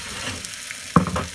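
An omelette in a frying pan just after being flipped, a brief soft sizzle with a sudden louder burst of frying as it lands, close and short.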